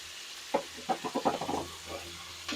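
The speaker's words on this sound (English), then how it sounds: "I am going to be putting in the jalapeno peppers and the onions and let them do their business." Jalapeno peppers and onions dropped into a hot pan, giving a soft hiss with a run of quick crackling pops clustered in the middle, fairly faint and close, no talking.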